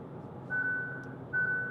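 The driver attention warning chime of a Kia EV3's eye-tracking system sounds twice inside the car, two sustained electronic tones in short succession, fairly faint over a quiet cabin hum.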